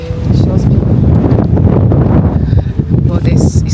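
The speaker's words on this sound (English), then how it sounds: "It's really windy." Strong wind buffets the microphone in gusty low rumbles, with occasional rustling and brief bursts throughout.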